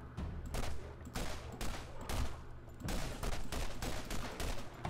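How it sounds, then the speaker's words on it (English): Gunfire from a gun in the video game Borderlands, rapid bursts of sharp shots in uneven clusters separated by short gaps, fairly quiet overall. "This gun sounds terrible."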